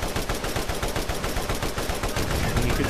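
Rapid bursts of combat rifle fire in the video game Borderlands during a fight with Mothrakk, loud, continuous and densely repeating throughout, with no pauses.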